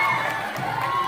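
A large crowd cheers and shouts at a big celebration in Kottarakkara during a visit by film star Asif Ali, a loud, dense wall of voices with whoops, continuous throughout.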